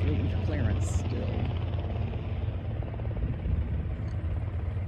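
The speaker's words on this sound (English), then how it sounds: "These engines sound like they're gonna start" A twin-engine plane runs at Frederick Municipal Airport, giving a steady low droning hum with a faint rattle, moderately distant and unchanging throughout.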